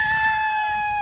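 A rooster crowing close by at a Filipino gamefowl farm, one loud, clear, sustained call that drops off at the end.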